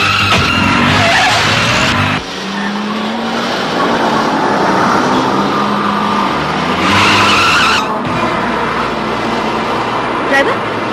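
A car pulls away with its tires skidding and squealing, loud and close, the engine and tire noise changing partway through, with voices heard in the scene.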